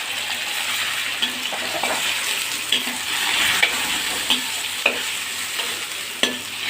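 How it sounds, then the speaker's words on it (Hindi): Long strips of boneless chicken fry in a pan with a steady sizzle, while a utensil stirs and scrapes against the metal in occasional clinks. "चिकन को हमने लंबा लंबा इस तरह से काट लेना है। ये बोनलेस चिकन हमने लिया है और इस तरह से आप देख सकते हो काट कर अब इसको फ्राई करेंगे।"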